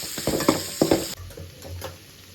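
Oil sizzles and crackles as onion tempering for sambar is stirred in a hot pan, short bursts of frying noise up close, no voices.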